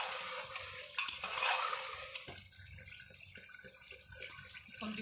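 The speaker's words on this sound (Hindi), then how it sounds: "इसको हम अच्छे से मिला देंगे।" A spoon stirs mutton stew in a pan after chopped green coriander is added, giving wet scraping and sloshing sounds with a light sizzle, close-up and fairly quiet, with no voices.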